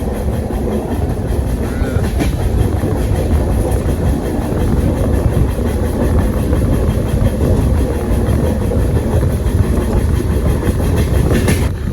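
A passenger train rolls through a full turn with a loud, constant roar and rhythmic clickety-clack from the wheels over the rail joints. The sound stays even and close throughout, with no clear voices.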